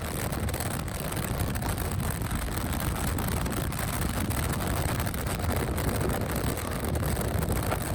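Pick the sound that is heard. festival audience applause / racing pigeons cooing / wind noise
wind noise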